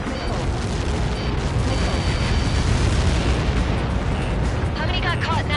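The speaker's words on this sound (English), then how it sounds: "How many got caught in that explosion?" A large explosion from projectiles striking the ground in a military action scene rumbles as a dense, sustained roar of blast and debris, loud and continuous throughout with no clear break.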